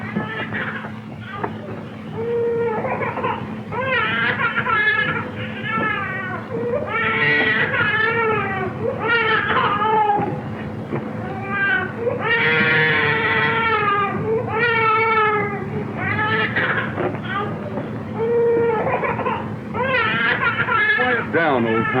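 An infant cries for a long stretch in a 1930s western, repeated wailing sobs and whimpers rising and falling, close and insistent with only short pauses between cries.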